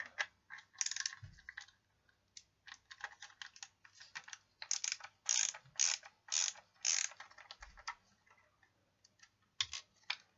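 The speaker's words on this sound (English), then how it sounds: "you need to remove these two screws at the back. So we'll just do that now." A screwdriver backs two screws out of the rear of an S65 smoke detector, heard as quiet, close clicks and creaky ticking in short bursts with gaps of silence between them.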